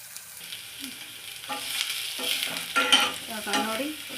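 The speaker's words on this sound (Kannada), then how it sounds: "ಸಿಗುತ್ತಾ ಇದ್ದಾಗೇ ನಾನು ಕಟ್ ಮಾಡಿಟ್ಕೊಂತ ಈರುಳ್ಳಿನ ಹಾಕ್ತಾಯಿದ್ದೀನಿ ನೋಡಿ" Chopped onions and curry leaves frying in hot oil in a North Karnataka home kitchen, a steady sizzle broken by repeated scraping and stirring strokes, close and moderately loud with no talking.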